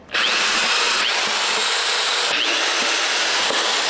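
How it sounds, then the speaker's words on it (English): A power drill whines loudly and steadily close by, drilling mounting holes for a front lip on a BMW M5 Competition, with brief dips in pitch as the bit bites in. "so I'm gonna drill the holes real quick."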